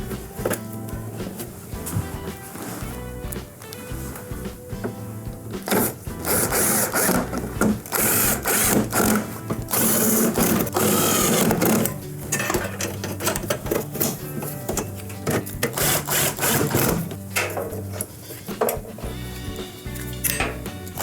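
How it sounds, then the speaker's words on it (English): A power driver reinstalling screws and a bracket on a Fisher & Paykel dryer, with repeated whirring bursts mixed with metallic clanks and rattles of panel parts, close and busy throughout. "now we can go ahead and reinstall all of our screws along with our bracket over here"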